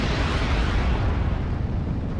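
A Typhoon rocket strike bursts on a Panzer IV tank in a Normandy 1944 battle game, a dense, loud blast with sustained rumbling debris filling the short span without pause.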